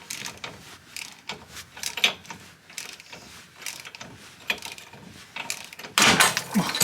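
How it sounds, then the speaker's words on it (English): Ball joint on a Porsche 996 Turbo worked loose during a CV boot job: scattered clicks, clanks and tool knocks, ending in a sudden loud pop. "let's see if we can pop this ball joint then"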